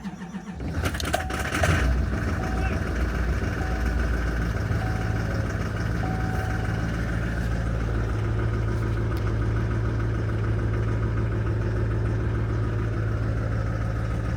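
A custom RV's engine cold-starts with a loud burst of cranking and catching, then settles into a steady, rumbling idle that runs unbroken for over ten seconds, close by.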